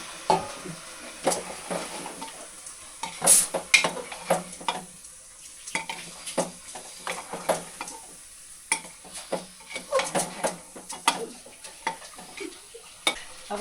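Potatoes fry in a pan with a little water added in a Nepali village kitchen, giving a constant soft sizzle broken by frequent sharp clinks and scrapes of stirring against the pan.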